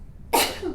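A single sharp sneeze bursts out suddenly after a quiet moment, close and loud, then fades with a brief breathy tail.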